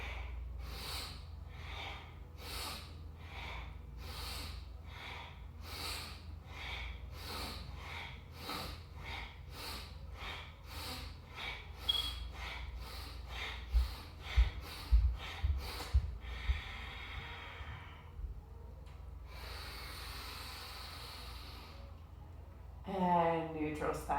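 Quick rhythmic yoga breathing during a vinyasa session, a long series of sharp, evenly spaced nasal breaths up close, followed by a few slower, deeper inhales and exhales.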